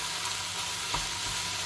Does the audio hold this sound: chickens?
no